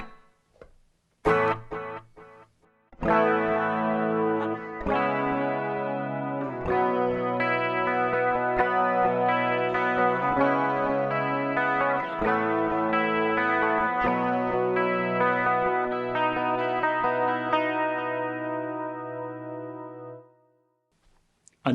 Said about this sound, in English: When you're holding chords, you can always bring in that delay.